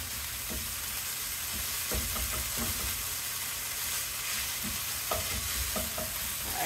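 Onions fry in meat juice in a pan for tacos, a steady close sizzle with scattered light stirring taps throughout, no talk.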